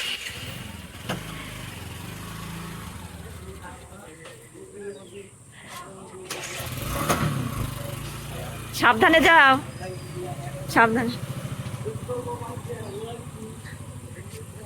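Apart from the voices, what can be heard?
motorcycle starting and riding away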